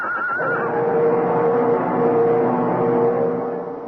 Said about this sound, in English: a man on horseback, galloping furiously